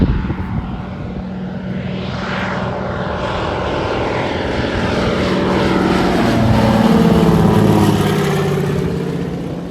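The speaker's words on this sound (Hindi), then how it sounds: "और अभी टेक ऑफ भी हो रहा है।" A seaplane takes off on a busy seaplane runway in Alaska, its propeller engine roaring loud and close, then rising in pitch and intensity as it accelerates and stays strong to the end, with no talk over it.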